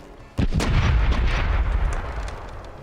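Pirate ship cannons fire in the Corsairs Legacy game, a single loud booming blast with a quick follow-up crack, then a long rumbling roar that slowly fades.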